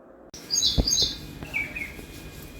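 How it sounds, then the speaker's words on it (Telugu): A small bird chirps in a few quick, bright bursts at close range in a quiet home, with a couple of soft knocks and light background noise between the calls. "నైవేద్యండి తినే పిట్ట వచ్చింది"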